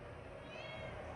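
A cat meows once, briefly and softly, in a short close-up cry with no one talking.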